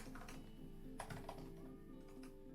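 Short bursts of light clicking on a computer keyboard as a filter name is typed, quiet and close with uneven pauses between keystrokes, with no talking.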